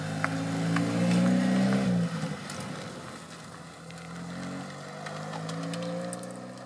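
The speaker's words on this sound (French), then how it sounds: "Là, on voit une Lotus Exige sortir." A Lotus Exige pulls away from the Magny-Cours circuit, its engine note rising loud and close for about two seconds, then settling into a steadier hum as it moves off.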